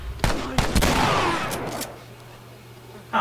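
Shotgun blasts in the video game The Last of Us come as sharp, loud reports, several in quick succession early on, then a lingering low rumble and a couple of fainter shots near the end.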